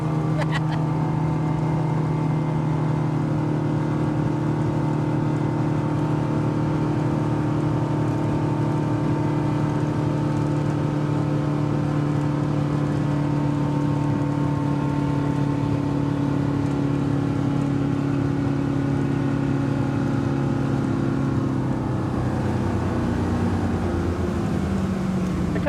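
A Crownline 260 EX boat runs steadily on the water, its engine holding a loud, continuous drone close by for the whole stretch, with faint rushing of water underneath.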